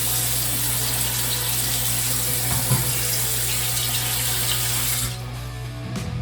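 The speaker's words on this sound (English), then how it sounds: "Go ahead and wet your razor blade." Tap water runs steadily into a sink to wet a razor blade for shaving, a loud continuous hiss and splash that stops abruptly near the end, followed by a faint clatter.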